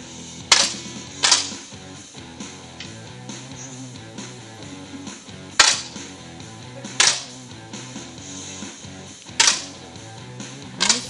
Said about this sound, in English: First series of 5 shots.